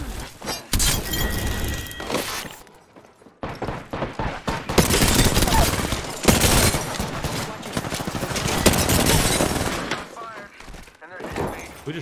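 Rapid bursts of gunfire and shattering impacts from an Apex Legends-style shooter with Wraith, loud and dense, broken by brief pauses, with a voice talking over the action.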